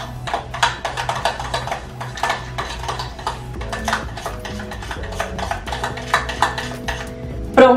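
Slime made from detergent and water is stirred in a container, giving rapid clinking and scraping taps of a utensil against the sides in a steady, busy rhythm, close and fairly loud.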